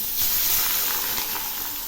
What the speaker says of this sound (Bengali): এখন আমি মাছগুলো ছেড়ে দিচ্ছি